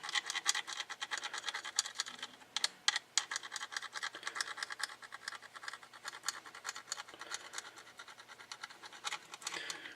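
A scanner's LCD ribbon is rubbed quickly back and forth, giving a quiet, close, rapid scratchy friction with irregular bursts and brief pauses, no talking.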